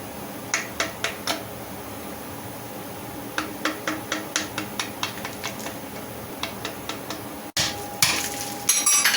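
Rust is chipped off a car's rear suspension with a run of quick metallic taps in short bursts, sharp and close, then a louder scraping clatter near the end.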